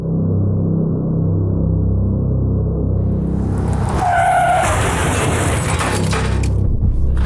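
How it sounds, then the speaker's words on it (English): A car skids and crashes out on a road: a sustained rumbling roar builds, then a sudden burst of screeching and crunching impact with shattering, loud and close, followed by lingering noise. "I just witnessed a major car crash."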